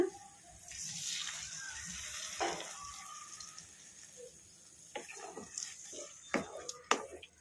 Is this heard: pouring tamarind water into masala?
yes